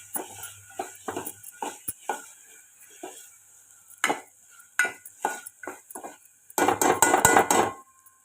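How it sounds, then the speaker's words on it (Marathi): Peas being stirred into masala in a pan for a methi matar dish, a series of close spoon scrapes and clinks against the pan, uneven and rhythmic, ending in a denser burst of clatter. "वटाणे टाकून झाले की आपल्याला हे मिक्स करणं आहे"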